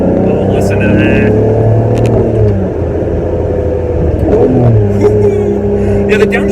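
A Ferrari 550 Maranello engine revs and hums loudly from inside the car, pitch rising and falling through gear changes, with a steady drone throughout.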